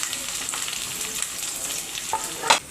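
Onions, dried prawns and green chillies fry in a pan with a steady close sizzle, broken near the end by a sharper scrape or stir.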